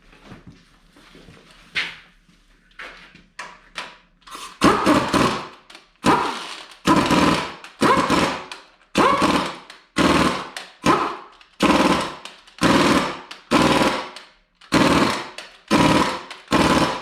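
Close, loud rattling bursts from an impact gun tightening the flywheel bolts on a tractor engine. About a dozen short hammering bursts follow some lighter handling clatter, and no one speaks.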